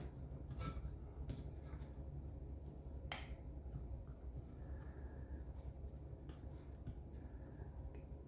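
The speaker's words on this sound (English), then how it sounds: "Maybe I need to snap my fingers again." A single sharp finger snap rings out once near the middle, close and crisp, over steady low hum and faint clinks from a Mamod SP1 miniature steam engine setup.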